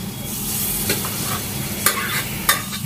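Food stirred and mixed in a pan with a spatula, a steady sizzling frying hiss under scraping, broken by a few sharp clatters of utensil against metal.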